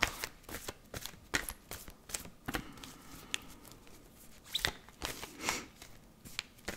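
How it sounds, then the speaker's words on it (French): A Petit Lenormand card deck being cut and shuffled by hand, a quick series of crisp papery riffles and flicks in uneven bursts, close and fairly quiet, with no talking over it. "On va couper la coupe du petit Lenormand"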